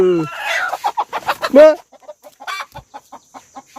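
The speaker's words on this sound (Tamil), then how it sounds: "அங்கே கோழி கூட ஒன்று" A village hen clucks repeatedly up close, a rapid series of short, throaty calls rising into a louder squawk, then continuing in quick clucks.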